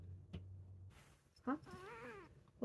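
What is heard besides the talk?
cat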